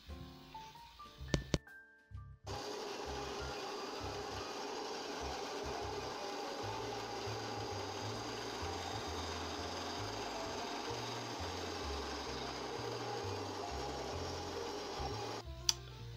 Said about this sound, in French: Et ensuite, on va la couper à la bonne longueur avec la scie à ruban